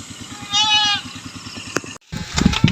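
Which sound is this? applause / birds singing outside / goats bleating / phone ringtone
goats bleating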